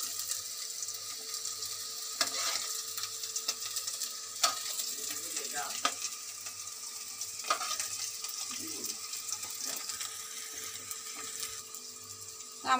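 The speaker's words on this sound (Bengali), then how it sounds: "আমার আলুটা ভাজা হয়ে গেছে" Potato pieces frying in oil give a continuous moderate sizzle, broken by occasional scrapes and clinks of stirring, with a faint low hum underneath.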